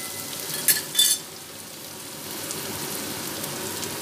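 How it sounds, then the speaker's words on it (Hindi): Potatoes being lightly mashed in a frying pan for poha, a steady sizzle throughout with two short scraping bursts near the start, close and clear with no talking. "आलू को इस तरह थोड़ा सा मैश करेंगे"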